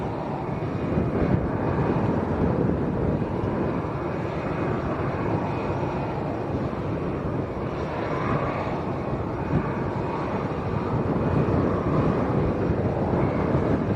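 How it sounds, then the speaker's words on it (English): Steady, loud roar of strong north wind buffeting the microphone at Lanzarote Airport, mixed with a low engine drone, continuous throughout without any talking. "It's very windy, winds coming down from the north"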